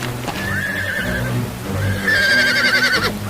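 Horses neigh loudly and close, two long whinnies in succession with shrill, wavering tones over lower grunting breath and a faint clip-clop of hooves.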